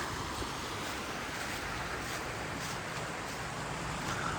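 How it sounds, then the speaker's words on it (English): The River Don near Sheffield flowing through woodland, a continuous faint rushing hiss of moving water, steady and even with no other sounds. "There's the River Don"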